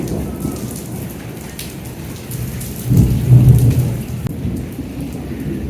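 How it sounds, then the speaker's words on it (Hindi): Over steady rainfall in Pakistan, a deep roll of thunder swells midway and rumbles for a couple of seconds before fading back into the rain. "वो जो कड़कने की आवाज़ होती है ना, वो आ रही है शदीद"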